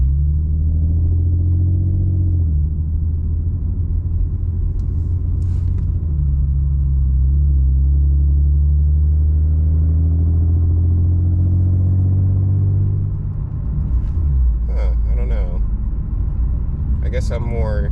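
Infiniti Q50S with a Vibrant resonator exhaust heard from inside the cabin, a deep, steady, subdued low-rpm drone that rises and falls gently with throttle, with a voice speaking over it near the end.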